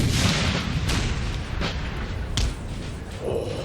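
Cannon fire on a Napoleon: Total War battlefield, several heavy booms spaced about a second apart, with one sharp close report, all over a continuous rumble of distant battle noise.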